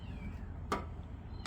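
A faint cat meow drifts in from the background, short and distant, with a steady low hum underneath and no talking.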